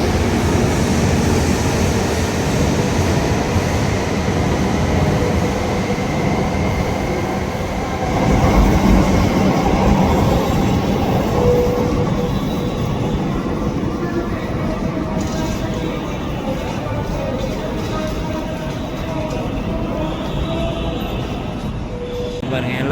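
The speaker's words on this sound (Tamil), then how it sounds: "ஜப்பான் புல்லட் ட்ரெயின் பயங்கரமாக இருக்குது பார்க்கவே" Japanese bullet train at a high-speed rail station, a steady loud rumble and rolling rail noise with a surge partway through, under crowd chatter on the platform.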